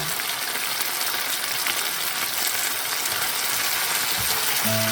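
Cabbage stir-fried with oyster sauce and fried dumpling wrappers gives off a steady, close hiss of frying throughout, with a brief scrape or clink near the end.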